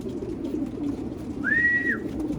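A racing pigeon coos softly in short, low notes at close range, broken by a brief, brighter whistle-like tone over faint background noise.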